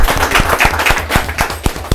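Audience applause at a live show, uneven sharp claps from a small crowd coming close and fairly loud, with no voices.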